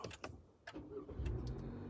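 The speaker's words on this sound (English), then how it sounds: "push the brake pedal down, push the engine start stop" The engine of a 2024 Toyota RAV4 XLE starts with a push-button press: faint clicks, then a brief crank and a soft low idle settling in, close and quiet.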